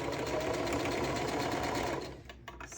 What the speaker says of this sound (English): So I'm just sewing up the corners of this bag